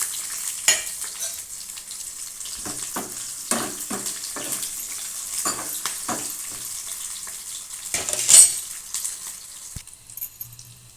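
Onion pieces and dried chillies frying in hot oil for dosakaya tomato pappu: a loud, continuous sizzle broken by repeated stirring scrapes, with a brief louder burst near the end before it quiets.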